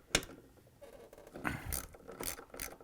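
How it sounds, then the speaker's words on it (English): A 1/2-inch socket wrench loosens the bolts holding a Whirlpool washer's transmission, giving close, irregular mechanical clicks and scraping in several short bursts with no talk. "we're going to use this 1/2-inch socket wrench and remove 3 mounting bolts that hold the transmission"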